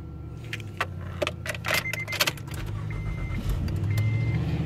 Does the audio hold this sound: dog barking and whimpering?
no